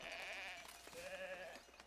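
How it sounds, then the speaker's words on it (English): Sheep in the medieval city-building game Foundation bleat twice in quick succession, faint and close, with quiet game ambience behind. "We got sheep running around in them."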